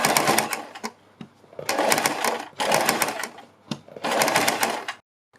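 Stitching a strip onto a kurti neckline, a sewing machine whirs in four short bursts of a second or less, each separated by a brief quiet gap.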